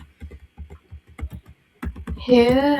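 Computer keyboard typing a message, a run of separate close key taps at a moderate pace, followed by a brief tonal sound at the end.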